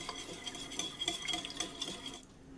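Oil and evaporated milk are whisked together in a bowl for mamon batter, a faint, quick swishing with light utensil clinks that fades near the end, without speech.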